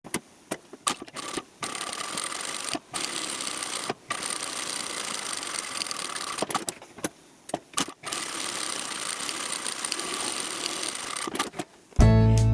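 A sewing machine runs in long steady bursts while stitching the full-length 1 cm side seams of a small drawstring bag, with short pauses between runs and a brief louder clunk at the end.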